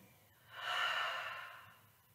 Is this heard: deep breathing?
yes